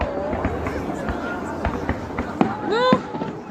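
Fireworks salute pops and crackles under close voices, with a loud whistling rise near the end and a sharp bang as it finishes.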